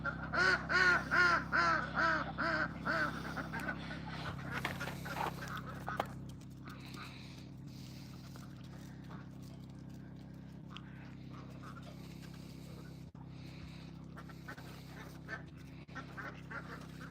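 Ducks at an off-grid homestead quack in a loud, rapid, rhythmic series up close, then fall to scattered fainter calls over a steady low background hum, with no talking.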